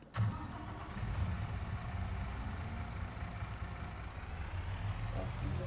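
Heavy truck engine in Farming Simulator 22 cranks and fires up, then settles into a steady low rumbling idle that runs on loudly with no talk over it.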